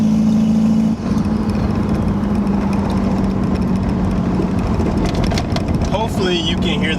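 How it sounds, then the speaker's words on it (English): A 1991 Toyota MR2 with a turbo swap and a CT26 turbo drones loudly and steadily while driving. A rising whine, like turbo spool, comes in near the end over the constant engine roar. "Can you guys hear how loud this car is?"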